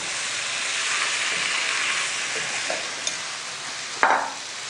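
Leftover rice and curry stir-fried in a pan over a full flame, giving a steady close sizzle with scraping stirs and a sharper clatter near the end, no voices.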